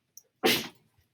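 A single sharp sneeze, close and sudden, preceded by a brief intake of breath in an otherwise quiet room.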